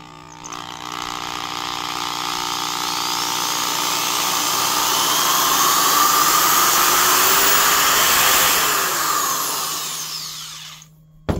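Ryobi corded utility drill with adjustable clutch and planetary gearbox running steadily, its whine rising and falling gently with the variable-speed trigger, loud and close, then cutting off abruptly at the end.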